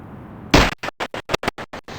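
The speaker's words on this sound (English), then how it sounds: "Check out the sound the swing makes when you shoot the seat." A swing seat in Battlefield 2 is shot: one sharp loud impact followed by a rapid series of about nine short, evenly spaced bursts, crisp and close, with nothing else around them.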